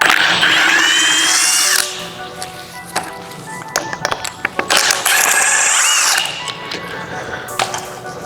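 A power drill whines in two long bursts, with ratchet clicks, taps and metal clatter between them, as tools remove the injector fuel rail from a Honda Civic engine.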